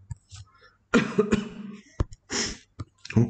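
Several sudden coughs and throat-clearing bursts come in quick irregular succession, close up, with breathy sounds between them.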